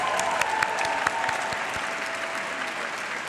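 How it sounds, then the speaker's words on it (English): A round of applause from a large audience at an evening event, a dense, even clapping that holds steady at moderate volume across the moment. "Can we take a minute? Round of applause."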